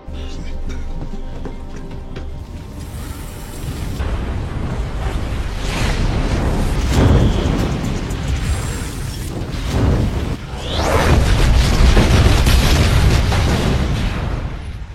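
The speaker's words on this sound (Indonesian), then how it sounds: "sebelum tempat itu meledak" Deep booming explosions in an action film rumble through a dense, chaotic roar of debris and blasts, several heavy bursts over a sustained, loud cinematic din.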